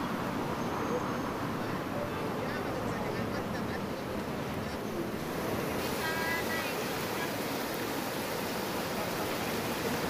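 Overflowing Cirompang river floodwater rushing in a dense, steady roar of churning water, loud and continuous, with speech partly present beneath.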